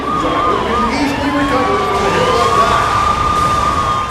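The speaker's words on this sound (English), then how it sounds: "everybody else did turn on their sirens." Emergency vehicle sirens wailing in the video game Saints Row 2, several overlapping rising and falling tones sounding together over busy game noise, steady and fairly loud throughout.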